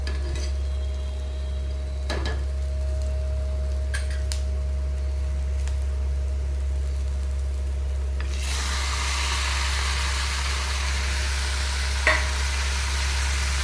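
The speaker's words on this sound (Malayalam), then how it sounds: "ഇതിലേക്ക് നമുക്ക് നാരങ്ങ കൊടുക്കണം" Lemons go into a hot pan for Kerala-style lemon pickle, bringing a loud, broad sizzle that swells partway through and holds steady over a constant low hum, with a faint utensil knock near the end.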